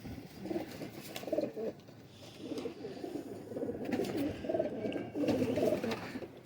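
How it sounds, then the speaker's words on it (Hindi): Several teddy pigeons coo softly nearby, their low throaty calls overlapping in a continuous, gently rolling rhythm. "ये माशाल्लाह पूरी बनी बनाई टेडी कबूतरों की गेम है और बहुत अच्छे कबूतर हैं"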